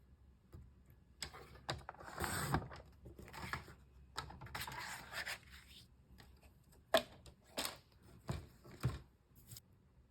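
Cardstock being cut to size with a paper trimmer, a series of short scraping slides and soft clicks in uneven bursts, close and quiet with no talking.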